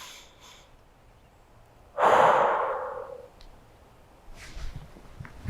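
A single deep, audible exhale through the nose during a gentle yoga session for hips and stress relief, a breathy rush that fades over about a second, then quiet.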